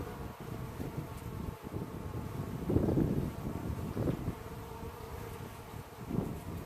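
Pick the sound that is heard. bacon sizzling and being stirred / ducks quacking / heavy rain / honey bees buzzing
honey bees buzzing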